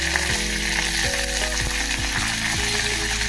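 Curry leaves and cumin crackle and sizzle loudly in hot oil for a tempering on the gas, a dense steady frying hiss with sharp spitting pops throughout, close and unbroken, no voices.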